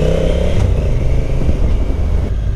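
A 2022 Honda NT1100 motorcycle pulls away from a stop, its engine giving a steady low rumble with a slight rise in revs, close and fairly loud with no talking.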